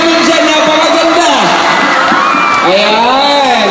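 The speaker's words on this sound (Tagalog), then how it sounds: "Palakpak naman dyan" Large crowd at a shopping mall event with a celebrity guest cheering and shrieking loudly, rising and falling whoops from many voices with applause mixed in, continuous and close.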